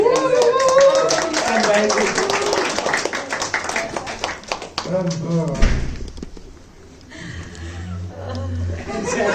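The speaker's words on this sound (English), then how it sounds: "Let's give Iz a big round of applause." An audience at an annual general meeting claps in a steady, dense wash of applause that fades after several seconds, with voices and a few thumps mixed in near the end.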